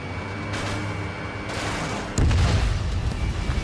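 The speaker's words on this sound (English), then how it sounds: "Missile away." Missile launch and explosion in the Ace Combat 7 combat flight game: steady roaring engine-like rumble, then a sudden loud, heavy blast at about two seconds that stays booming and crackling to the end, with no talk.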